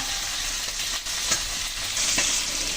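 A spice mix for a potato and bain fish bhuna is stirred with water, producing a continuous hissing wash with soft scraping strokes, near and steady, without speech.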